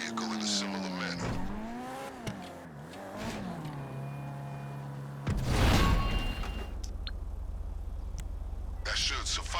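A getaway car in GTA Online revs and accelerates, its engine pitch rising and falling through gear changes before a burst of tire noise, with game dialogue and effects layered over the driving.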